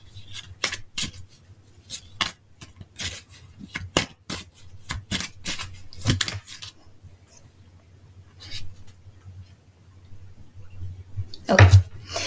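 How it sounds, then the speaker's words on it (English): A deck of pick-a-card reading cards handled and shuffled up close, sharp papery flicks and snaps coming in quick irregular bursts, then sparser taps and a louder riffle near the end. "Let me get one more card here."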